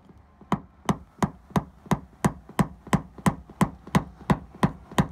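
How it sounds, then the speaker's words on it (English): A steady series of sharp metallic taps on a 2018 Toyota Tacoma roof dent, about three per second, evenly spaced and fairly close, with no talking. "It crested it, which is fine because I can just tap it down now."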